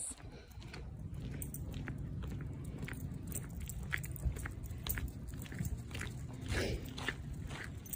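Feet crunching on the ground during an outdoor nature walk, a steady run of soft crunchy steps close by against a constant outdoor background.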